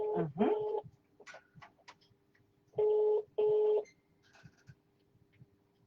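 A telephone on a live radio call-in show rings out: a warbling tone, then two long, steady ringback tones with short gaps, near and clear, with faint background noise between them.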